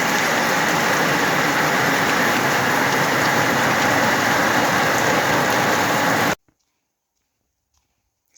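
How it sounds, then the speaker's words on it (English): Steady afternoon rain pours down in a dense, loud, unbroken hiss with no talking, then stops abruptly, leaving near silence. "Having some lovely afternoon rain again."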